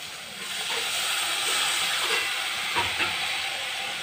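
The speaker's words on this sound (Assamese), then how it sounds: "মই ইয়াত অকণমান পানী দি দিম।" Water poured into a hot pan of onions, tomatoes, ginger and garlic paste sets off a loud, steady sizzling hiss that lasts throughout, with a few faint clinks under it.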